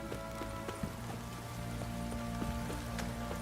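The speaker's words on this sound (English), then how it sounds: "This downpour's a bastard, it is." Steady heavy rain in the video game The Witcher 3, a dense continuous patter with scattered louder drops against a low constant hum.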